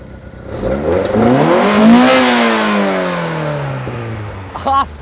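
A Lada Zhiguli, a classic rear-wheel-drive car with a long engine and driveshaft, revs up loudly then winds down in a sweeping pitch, close by, with a short sharp burst at the end.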